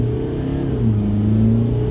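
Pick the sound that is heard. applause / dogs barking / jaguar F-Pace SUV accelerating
jaguar F-Pace SUV accelerating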